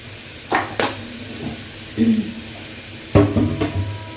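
Onions with garam masala are stirred in a pot, with a few scraping spoon strokes and soft clinks against the metal over a low sizzle, in short bursts with quiet gaps between them.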